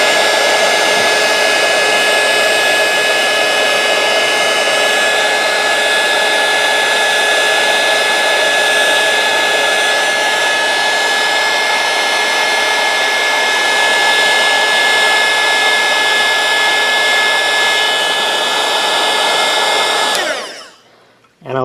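A heat gun blows steadily and loudly on heat shrink tubing during a George Foreman grill repair, a constant whooshing hum that runs uninterrupted for about twenty seconds before it is switched off abruptly.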